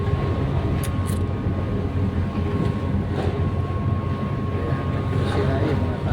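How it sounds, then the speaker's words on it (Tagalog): Ship engine on a passenger ferry bound for Mindoro, a steady low droning rumble filling the whole stretch with a faint constant hum, loud and unbroken, with distant voices and clanks over it. "Andar na rin yung makina ng barko"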